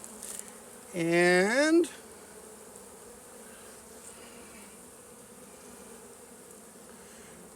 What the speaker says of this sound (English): it looks like there's a couple bees on there